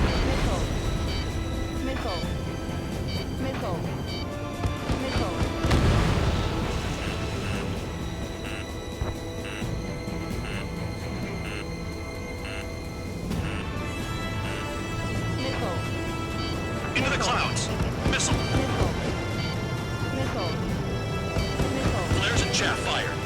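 Anti-aircraft fire and missile explosions in the Ace Combat 7 flight game on PC: dense, continuous booming and rumbling with repeated bursts and loud impacts around six seconds, layered over music and radio chatter.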